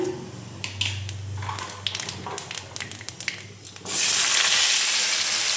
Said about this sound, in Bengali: ভিন্ডি ভাজা তেলে একটু কালো জিরা দিয়ে দিলাম